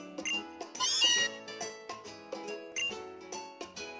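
Meowth, the cat Pokémon in Pokémon Sun, gives a string of short, clear electronic meows in a bouncy rhythm, several separate calls within a few seconds, alone with no talk.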